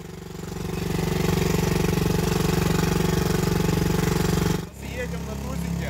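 Small inflatable yacht dinghy's outboard motor running close by, a steady rhythmic putter that builds, then briefly dips and resumes at a lower level.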